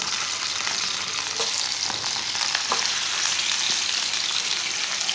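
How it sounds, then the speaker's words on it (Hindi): Goat mutton fries in hot oil with a loud, dense, continuous sizzle up close, and faint utensil taps show through now and then. "डाल के इसे 2-3 मिनट के लिए फ्राई कर लेंगे।"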